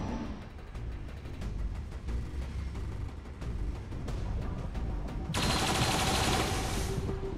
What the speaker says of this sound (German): Gut, es ging daneben. Bin unter Beschuss.